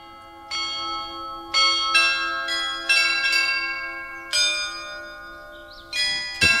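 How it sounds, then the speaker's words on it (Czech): Carillon bells of the Loreta in Prague play a Marian hymn, with clear ringing bell notes struck one after another in a slow melody over a low steady hum, each tone decaying with a long resonant tail. "Teďka slyšíte vlastně píseň Tisíckrát pozdravujeme tebe, což je mariánská píseň, která hraje pravidelně na Loretě."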